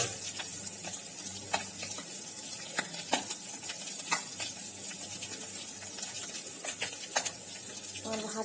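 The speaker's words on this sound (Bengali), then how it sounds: "মাছগুলো কড়াই দিয়ে দিয়েছি।" Fish sizzle in a wok in a home kitchen, a steady crackling hiss with scattered sharp pops and spatters throughout, fairly close and continuous.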